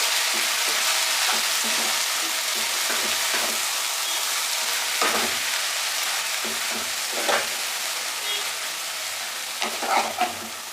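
Water spinach being stirred in a pan with salt and turmeric during a traditional Bengali recipe, a steady loud sizzle with soft scraping and clinking strokes scattered through it.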